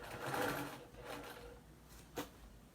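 Sewing machine stitching in the ditch along quilt binding without a stitch-in-the-ditch foot, a soft, fairly quiet mechanical whir that swells early, eases off, then ends with a brief click.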